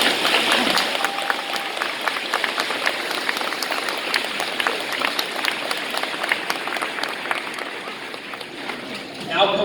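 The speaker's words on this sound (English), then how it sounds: "Graduates, would you please join me in applause?" Graduation ceremony audience applauding at a valedictorian speech, a sustained, even roar of clapping from a large crowd that carries on for nearly ten seconds before fading out.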